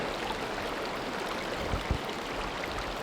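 A river flows beside a hot spring in snowy country, a steady broadband rush of moving water heard fairly close and even throughout, with a couple of faint low thumps; no talking.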